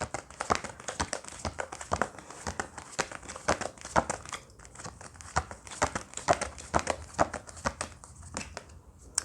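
Tarot cards being shuffled and handled, with a dense run of crisp crinkly flicks and rustles throughout, close and steady, no talking.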